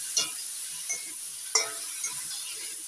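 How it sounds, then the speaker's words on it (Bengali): Green tomato dish with salt being stirred in a pan, a soft steady sizzle broken by four light scraping strokes of a spoon, the third the sharpest, with no voices. "লবণ দিয়ে ভালো করে নাড়াচাড়া করে মিশিয়ে নিচ্ছি।"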